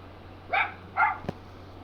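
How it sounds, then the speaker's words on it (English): A dog barks twice in quick succession, moderately loud and close, followed by a short thump, with a low steady hum underneath. "this dog barks incessantly"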